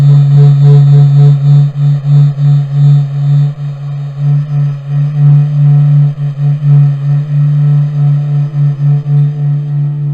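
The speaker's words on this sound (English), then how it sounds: "What you just heard is the heartbeat of the Sun, captured by NASA's Solar Heliospheric Observatory." The Sun's oscillations, recorded by NASA's SOHO solar observatory and rendered as sound, come through as a loud, low, sustained hum that swells and fades in a slow, uneven pulsing rhythm with faint overtones above it.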